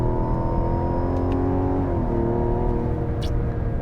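A 2024 Mazda CX-90 turbo inline-six engine pulls hard under acceleration, a smooth rising drone that dips briefly at a paddle-shifted gear change, heard from inside the cabin.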